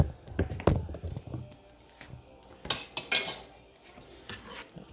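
A knife cuts an onion on a cutting board for cheeseburger soup, with scattered clicks and taps and a brief brighter scraping burst midway, close and moderately loud, no talking.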